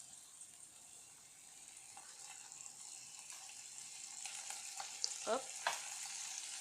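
Crème fraîche sizzles softly in a saucepan without oil, a gentle crackling hiss that builds slightly, with a few stirring scrapes near the end and a brief spoken word.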